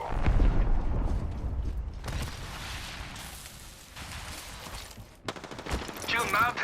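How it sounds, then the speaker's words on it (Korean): Apex Legends match on PS4 in season 12, with bursts of gunfire, mechanical clatter and booms mixed into busy game sound and music, loud and dense throughout. "총 쏘는 거야"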